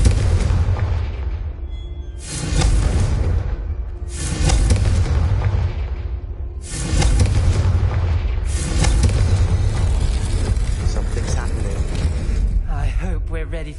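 Confringo spell explosions in a Harry Potter video game fire one after another, a series of loud, booming blasts at roughly two-second intervals, each rolling into the next.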